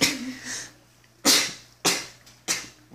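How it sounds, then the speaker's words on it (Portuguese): A person lets out a few sharp sneezes, three distinct bursts spaced about half a second apart, close and loud in an otherwise quiet room. "Ele espirrou para o lado como uma pessoa direitinho deve fazer"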